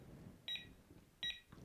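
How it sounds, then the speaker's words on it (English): A Txi-D device gives two crisp electronic beeps while its button is held, about three quarters of a second apart, loud against a quiet room with low rumble. "And if I hold it down for 4 beeps,"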